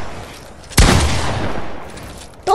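Gunfire in an online shooter video game arena match: a sudden loud blast followed by a sustained, rumbling burst lasting over a second, then fading before a voice briefly cuts in at the end.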